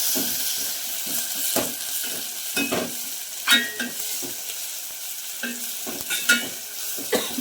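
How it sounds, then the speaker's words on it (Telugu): Chopped tomatoes sizzle in a pan with ginger-garlic paste for bagara rice while a spoon stirs and scrapes in irregular strokes, steady frying hiss up close. "టమాటా వేసుకున్నామండి కొంచెం వేగలిద్దాము"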